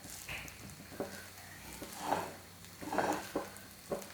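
Chicken rice heating in a pan on the stove: a steady low sizzle with occasional louder scraping swells from stirring, close and fairly quiet, no talking.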